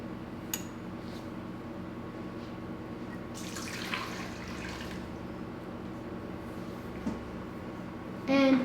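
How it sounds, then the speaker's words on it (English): Lukewarm water poured into a mixing bowl with yeast for pretzel breadstick dough, heard as a soft, brief splashing wash in the middle, faint over a low steady background hum. "So now we need to add our yeast and our lukewarm water"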